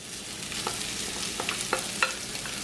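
Banana blossom stir-fries in a pan with a soft, continuous sizzle, punctuated by sharp spatula clicks and scrapes against the metal.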